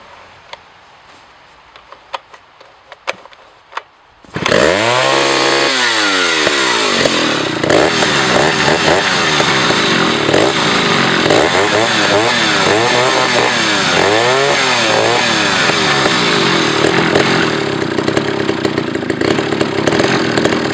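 A Jonsereds XG chainsaw restarts after a few quiet clicks, then runs loud and close with a steady rasping two-stroke drone that rises and falls as the throttle is blipped, continuing without pause.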